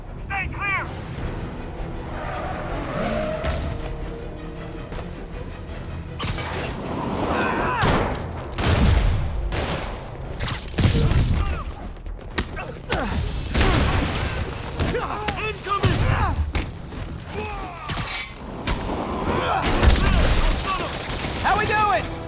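Combat gunfire in the video game Marvel's Spider-Man: repeated volleys of loud shots and heavy thuds in uneven bursts, mixed with shouted voices and ongoing game sounds.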